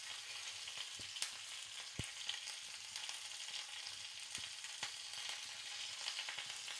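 Pearl spot fish (karimeen) fry in a pan with a steady, soft, hissing sizzle, broken by occasional sharp pops and ticks, and no one speaks.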